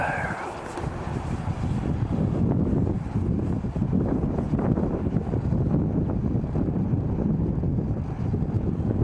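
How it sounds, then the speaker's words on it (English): Steady wind blowing at about 12-14 miles an hour buffets the microphone with a continuous low rushing roar, broad and unbroken, with faint voices underneath. "The wind about 12-14 miles an hour right now, a little more upstairs."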